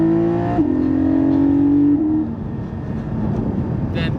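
Porsche 718 Cayman GT4 engine while driving, a loud, steady, tonal drone that holds one pitch, drops in a quick shift, then settles into a lower, rougher hum.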